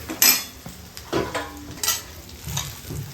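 Onions sautéing in a pan with a pinch of asafoetida for bisi bele bath, a steady close sizzle broken by several clinking spoon strokes against the metal pan, with no talking.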